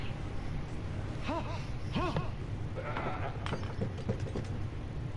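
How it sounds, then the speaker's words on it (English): A sheep in the video game Assassin's Creed Odyssey bleats several times in short wavering calls, moderately close, over a steady background of game ambience and mechanical noise. "Is that a sheep?"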